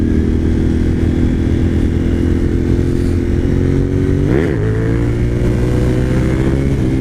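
A Suzuki TL1000R motorcycle with 150,000 miles holds a loud, close, steady engine drone in third gear during a wheelie, with a brief rising and falling rev shift midway and no talk.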